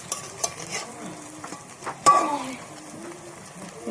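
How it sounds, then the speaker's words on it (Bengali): Vegetables frying in a pan for a vegetable gola paratha tiffin, a soft steady sizzle under occasional stirring scrapes and a sharper clatter near the middle, with some speech faintly present. "একটু লাল লাল করে ভাজবো"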